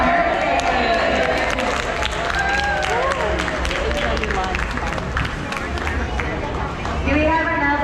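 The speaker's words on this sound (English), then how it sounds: "we can all yell happy birthday, followed by a round of applause" A crowd on the San Antonio River Walk yells and cheers together, then breaks into sustained applause and clapping mixed with voices, loud and dense throughout.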